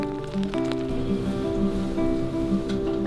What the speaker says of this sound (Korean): 봄을 재촉하는 봄비가 내리는 경남 하동.